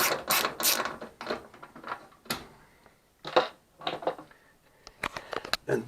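T20 Torx screws are backed out of the water valve on a Maytag 3000 Series washing machine, giving irregular bursts of close ratcheting clicks and metallic turns separated by brief quiet gaps.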